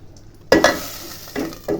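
Two beaten eggs poured into not-quite-hot oil, giving a quiet start followed by a sudden close sizzle and clatter that bursts out, eases, then flares again in short surges.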